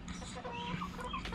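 Several new chickens cluck softly and continuously close by, a short burst of murmuring fowl calls over a low steady hum, with no talking.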